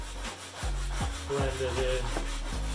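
A brush scrubs back and forth over a waxed snowboard base, clearing leftover wax in several close, rough strokes.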